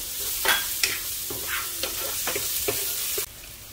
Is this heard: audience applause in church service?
no